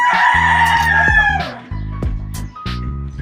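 A gamecock rooster crows loudly and close by in a full cock-a-doodle-doo, followed by shorter clucks and calls, with no talking.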